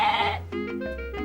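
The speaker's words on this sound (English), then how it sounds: "He rode his goat into the hall." A goat bleats loudly and close in a wavering, drawn-out cry, followed by a second shorter bleat, heard alone.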